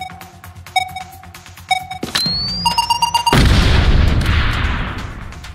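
A loud booming explosion bursts out in the People Playground video game, following a few short game clicks and a rising electronic tone, then fades into a long rumbling, crackling tail.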